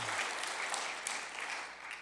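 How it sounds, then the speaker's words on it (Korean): A Sunday church congregation applauding the choir and its organizer, a dense, even roll of many hands clapping at a moderate distance for a couple of seconds. "우리 수고하신 총무님, 우리 대원들 위해서 우리 박수 한번 하시겠습니다."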